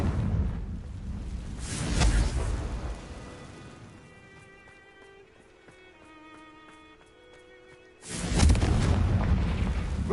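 Confringo fire spell explosions in the Hogwarts Legacy video game, with two loud booming blasts at the start and end separated by a quieter stretch of game ambience and chiming tones.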